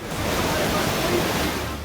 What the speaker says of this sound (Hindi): चिनाब नदी खतरे के निशान से ऊपर बह रही है